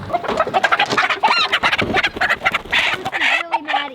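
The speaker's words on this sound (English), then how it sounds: "doesn't like his hen squawking" A rooster and hens in a backyard flock clucking and squawking, loud and close with busy overlapping calls and a drawn-out cry near the end.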